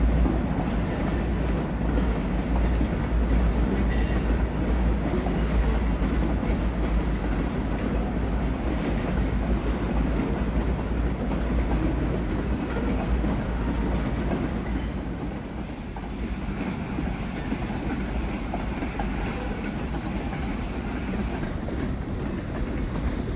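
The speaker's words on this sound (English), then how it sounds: "The train seen here has a nice mix of boxcars and wood chip gondolas." Freight train made up of boxcars and wood chip gondolas rolls past on a rural branch line near Toledo, a steady loud rumble with rhythmic wheel clatter throughout and no voices.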